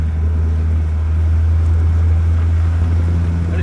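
A fishing boat engine out reef fishing off Holyhead, Anglesey, droning loud and steady with a low hum and a slight rise in revs, alongside wind noise.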